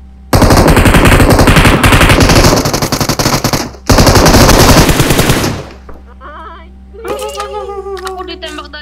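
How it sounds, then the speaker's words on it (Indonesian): Rapid automatic gunfire in the mobile game PUBG Mobile, two loud sustained bursts of closely spaced shots, followed by quieter game sounds and a short voice. "Aku ditembak dari mana, Ashu?"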